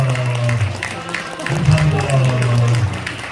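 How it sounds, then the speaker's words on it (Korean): A church audience applauds at a pastors' hymn-singing contest awards ceremony, steady dense clapping from a crowd heard beneath someone talking over it. "박수 주시기 바랍니다."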